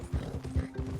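Horse galloping in the Red Dead Redemption 2 video game, with steady rhythmic hoof clip-clops that are close and clear while a low engine-like hum runs underneath.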